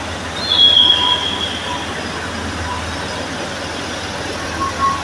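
A train moves through Solo Balapan station from track 7, with a brief high wheel squeal early on over a low steady rail rumble, and a station announcement voice faintly underneath.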